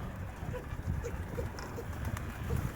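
Pigeons in a breeding loft coo softly over and over, a faint, low, murmuring chorus against a dull background hum.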